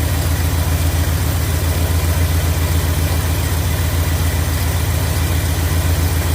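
1976 Ford F-150 Ranger pickup engine idling just after being restarted, a steady even low throb with constant rhythm, loud and close with no talking.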